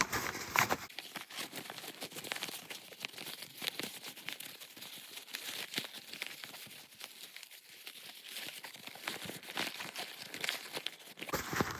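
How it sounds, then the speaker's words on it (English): Soft crinkling and rustling of sewn fabric being turned right side out through a slip pocket, a continuous quiet scrunching with small brushing taps, close up and with no voices. "we're going to turn our slip pocket right side out"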